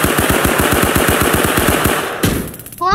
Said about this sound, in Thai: กระสุนเขาจะหมด มันยิงองศาเข้าด้วยเหรอ